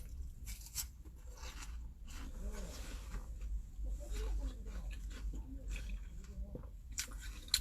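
Someone chews a freshly picked pear close to the microphone, giving soft, faint crunching and wet squishing bites that repeat in an uneven rhythm against a quiet background.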